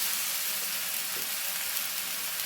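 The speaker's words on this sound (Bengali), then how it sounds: "এবার এই তেলের মধ্যে আমি আদা আর টমেটো বাটাটা ঢেলে দিচ্ছি" Ginger and tomato paste sizzles in hot oil over lowered heat, a soft, even, hissing fry that stays steady and fairly faint throughout with no voices.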